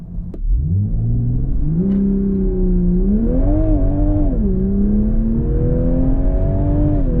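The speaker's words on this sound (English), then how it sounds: "The car also has launch control, which we will show you right now." After a short sharp click, a 2022 Toyota GR Supra engine roars into a hard launch-control start, pitch climbing through gear changes into a sustained, loud accelerating drone.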